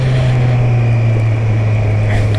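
Steady engine drone from a motorcycle under way, a strong low hum with constant pitch, loud and close throughout with no talk.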